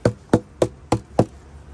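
Five evenly spaced dull knocks of a hand or tool on a wooden beehive, tapping bees back down into the hive after a feeder is put in before winter; close and fairly loud, with no talk.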